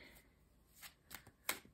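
Oracle cards are shuffled and drawn during a tarot-style reading, heard as a few soft, quick riffling and snapping bursts, close and quiet, with no talk.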